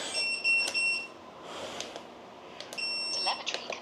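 Deepseeker 35 drone emitting short high electronic beep tones in two bursts, early and late, with faint background noise between them.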